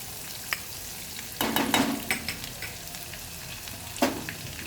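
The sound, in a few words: crushed garlic added to pan, sizzling while stirred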